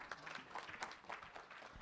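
Applause breaks out among the audience at a Senate press conference with Senators Gatchalian and Hontiveros, a dense, even patter of clapping with no talk over it.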